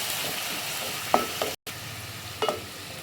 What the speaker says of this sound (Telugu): దీన్ని మంచిగా 2 నిమిషాలు మంచిగా ఫ్రై కానిద్దాం